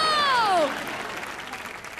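Audience clapping at a Christmas-special comedy show, moderately loud and brief, following a fading synthetic sound effect sweep at the start.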